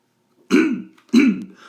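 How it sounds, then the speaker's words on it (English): A person clears their throat twice in quick succession, close and distinct, each a short rough burst with a brief pause between them. "I had to clear my throat"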